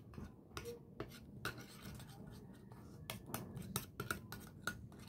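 A spoon scrapes and taps quietly around a bowl while coffee and egg are mixed into a face mask, giving a series of faint, close clinks and rubbing strokes over low background hum.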